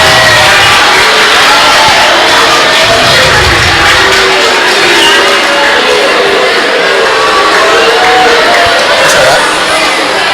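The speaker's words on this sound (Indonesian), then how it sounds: "Ya, tepuk tangan untuk kita semua." A crowd at a school recitation competition in an Islamic boarding school roars with clapping, cheering and whoops, a loud, dense and continuous din with voices mixed in throughout.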